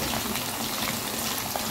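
Chicken pieces sizzle and bubble steadily in a hot pan for street-style chicken fried rice, a loud continuous frying hiss with no pauses.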